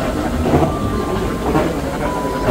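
Train noise at the Milan Malpensa airport railway station in Italy: a steady broadband rumble and hiss with faint tonal whines, continuous and fairly close, with little talk.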